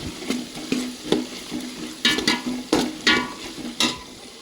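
Onions sautéing in a pan for mutton gravy and ghee rice: a close, continuous sizzle broken by regular scraping strokes of a spoon, about two per second and growing busier in the second half.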